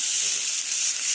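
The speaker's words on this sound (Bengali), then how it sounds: "আলু দিয়ে পেঁপে দিয়ে ভাজা করছি" Potatoes and papaya frying in a pan give a steady, close sizzle and hiss with no breaks and no voices.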